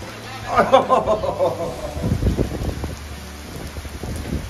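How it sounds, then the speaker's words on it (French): Heavy rain patters and splatters steadily nearby at Merzouga, Morocco, with large drops hitting a surface and a low rumbling wind underneath during a sandstorm. "Il pleut, quoi. Des gouttes énormes"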